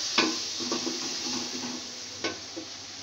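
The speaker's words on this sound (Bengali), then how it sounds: "এখন আমি মশলাটাকে ভালো করে কষিয়ে নিব।" Whole spices and ginger garlic paste fry in a hot pan for a khichuri, a steady close sizzle with a few soft stirring knocks.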